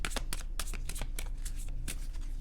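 Tarot cards being shuffled close up, a steady run of crisp riffling flicks and soft slaps repeating through the whole stretch with no voices.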